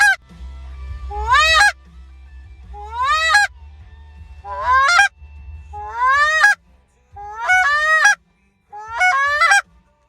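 Geese honk in the hunting video game Wildlife Warfare: about six loud, close bursts of layered honking calls, each separated by short pauses, over a low rumbling background.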